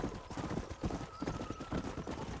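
Horse hooves galloping in a steady clip-clop rhythm in Red Dead Redemption on PS5, with a brief whinny mixed in, close and continuous throughout.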